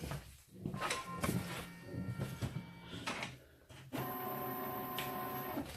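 A Brother MFC-J6720DW inkjet printer powers back on after a power reset, with clunks and whirring mechanism noises giving way to a steady, close electronic tone and motor hum that holds to the end.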